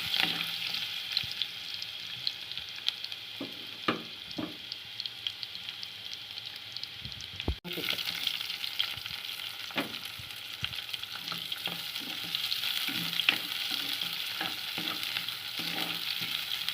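Garlic fries in coconut oil in a pan for chicken curry, giving a steady soft sizzle broken by scattered clinks and scrapes of stirring, with a brief louder knock partway through.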